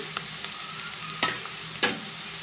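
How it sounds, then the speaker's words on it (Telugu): Onions and cumin frying with salt, coriander powder, chili powder and turmeric for an okra fry, a steady sizzle broken by a few sharp scraping stirs. "ఇది కూడా బాగా కలుపుకుందాం ఒక five second five seconds fry చేద్దామండి"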